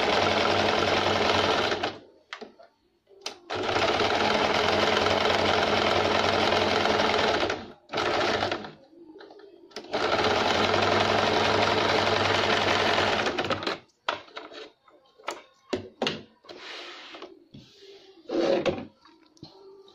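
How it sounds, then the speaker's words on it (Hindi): An electric sewing machine stitches the sides of a blouse with a back-neck design, running in long fast whirring bursts separated by pauses, with fabric handling, clicks and short stops between runs. "अब इसके हम सब बाजू सिल लेंगे।"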